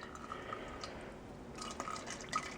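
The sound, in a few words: apple cider vinegar poured into a squirt bottle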